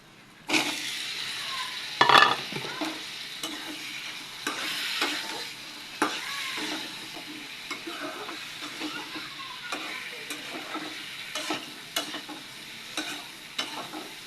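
Onions and chilies frying with pabda fish roe in a pan, a soft continuous sizzle punctuated by sharp scraping stirs and clatters of a utensil against the pan, close by and without talk.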